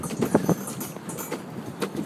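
Paddles splash and knock as a paddle boat is pushed across water in Washington, DC, giving a few close, uneven strokes with wind buffeting the microphone.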